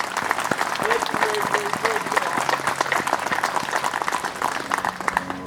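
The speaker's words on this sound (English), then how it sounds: "the second set of applause goes to young Miss Mabry for that wonderful rendition of our oath." A Memorial Day crowd applauds steadily for several seconds, a dense patter of many hands with a voice briefly heard over it.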